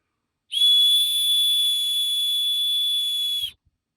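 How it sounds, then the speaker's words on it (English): One steady, shrill blast from a small whistle built into a car emergency tool lasts about three seconds, loud and close, with silence before and after. "They also, for reasons best known unto themselves, equipped the thing with a whistle"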